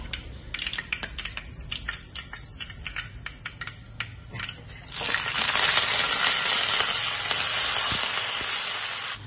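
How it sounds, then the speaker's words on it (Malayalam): Dried red chillies and curry leaves fry in hot oil for a Kerala bitter gourd and mango curry, with scattered clicks and pops giving way to a steady, loud sizzle close by. "മുളകും കരിവേപ്പിലയൊക്കെ മൂത്തിട്ടുണ്ട്"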